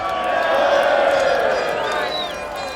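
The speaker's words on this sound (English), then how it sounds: "A crowd of Brexiteers cheer Tony Blair." A crowd of Brexiteers cheers in Parliament Square, London, a loud, sustained outdoor roar of many voices that swells and then eases slightly, with a whistle rising near the end.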